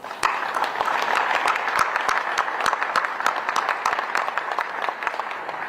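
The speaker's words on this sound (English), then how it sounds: "Let's give them a round of applause." Audience applause at a city groundbreaking ceremony for a new O'Hare Airport terminal, with steady, moderately dense clapping from a gathered crowd, individual claps standing out, sustained without speech for several seconds.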